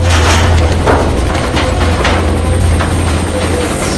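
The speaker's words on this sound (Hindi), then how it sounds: "हेलीकॉप्टर को चारों तरफ घुमाओ" A helicopter's rotor thumps steadily over a loud engine rumble, continuous and close throughout.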